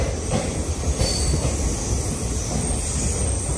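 A new LHB-rake passenger train of the East Coast Railway rolls along the rails near a station, its steady rumble mixed with wheel squeal and a bright high whine, close and continuous with no talk.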